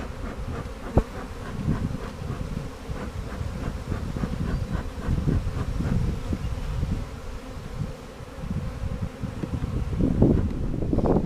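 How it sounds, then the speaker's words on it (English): Honeybees fly around a hive being checked for supersedure and an unmated queen, a dense continuous buzz of many insects close by, with a sharp tap near the start and the drone swelling toward the end. "We got some bees flying now."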